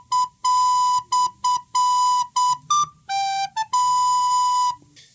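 A recorder plays the opening line of Jingle Bells, bright, clear tones in short repeated notes followed by a few longer held ones, loud and close with no voices.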